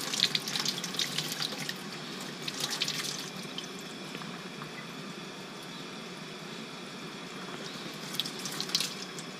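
Chanterelle mushrooms being rinsed under a running kitchen tap after scraping off leaf litter and dirt: a steady stream of water splashing and gurgling into a sink, with brighter spattering bursts as the caps are turned under the flow.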